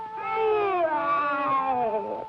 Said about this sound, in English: What are you doing, Black Cat?